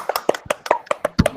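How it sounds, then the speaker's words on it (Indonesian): A small group claps together at the start of an online class session, about eight sharp, evenly spaced hand claps over just over a second, close and fairly loud, with no talking. "Tepuk tangan yang keras buat kita semua"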